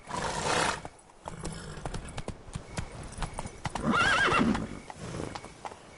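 Roach, Geralt's horse in The Witcher 3 video game, trots with sharp clip-clop hoofbeats and lets out a loud whinny midway, with brief game sounds around it.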